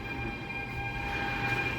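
A new regional train for Sweden's Mälaren region rolls past, a quiet, steady rail rumble with sustained tonal whine and faint squeal over the wheels, continuous and somewhat distant.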